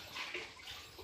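Water is drawn into a large container, likely a 50-gallon drum, from a household water source: a steady, moderately loud splashing fill running continuously through the short moment, with no voices.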